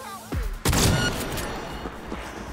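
Shotgun fired in Cyberpunk, a sharp loud blast at the start of a close-range fight, preceded by a smaller thump and trailing off into a lingering rumble.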